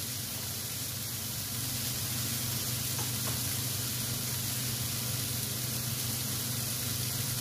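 Food for adobo sizzles and fries steadily in a pan while being stirred, a constant hissing crackle at even loudness throughout with occasional faint scraping, no talking.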